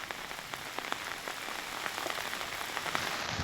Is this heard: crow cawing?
no